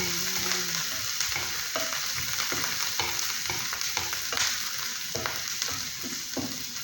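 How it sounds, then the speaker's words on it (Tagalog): Onions and garlic stirred and fried in oil until browning, a dense steady sizzle with repeated spoon scrapes and taps against the pan, close and busy, with no speech. "At halo-haloin lang ang sibuyas hanggang medyo brown mga guys."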